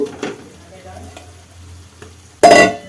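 Mashed potato is fried in oily spice masala in a pan, with faint scraping and low sizzle that ends in a loud, close burst of stirring and frying.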